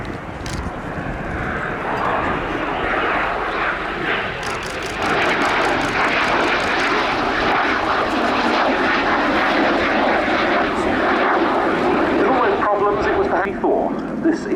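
A Messerschmitt Me 262 jet fighter makes a flypast at an airshow, its engine roar loud and sustained throughout, with a commentator speaking over the noise.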